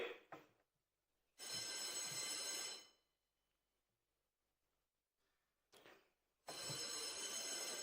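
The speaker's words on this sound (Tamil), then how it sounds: "அழைப்பு மணியை, அதாவது கோரம் பெல் 3 முறை ஒலிக்க செய்வார்கள்" Quorum bell in a state legislative assembly chamber, a loud electric bell ringing in two long bursts separated by a quiet pause, alone with no speech.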